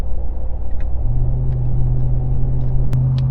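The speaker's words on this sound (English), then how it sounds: "Let's hear that supercharger whine." RAM 1500 TRX pickup with a 702 hp supercharged Hellcat engine, driven in sport mode: a close, loud engine drone whose low steady tone steps up about a second in and holds, with no talking.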